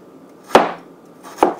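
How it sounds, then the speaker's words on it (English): Two crisp knife chops through a slice of ginger land on a cutting board about a second apart, each a sharp close knock with a short fading tail in a quiet kitchen. "Make sure you tuck in your finger when you slice the ginger."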